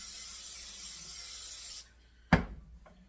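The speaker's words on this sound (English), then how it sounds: "So I'm going to spray that over here." Cooking oil sprays onto an air fryer wire basket in a steady hiss that stops abruptly, followed by a sharp knock as the can or basket is set down, close by.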